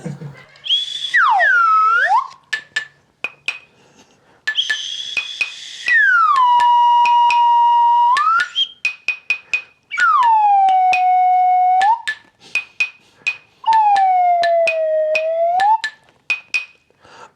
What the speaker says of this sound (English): It's a slide whistle.